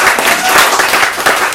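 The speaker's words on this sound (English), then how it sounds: "Big round of applause for Ben again." A pub audience claps loudly and densely for a musician after a live performance, the brief burst sounding close and packed with overlapping hand claps.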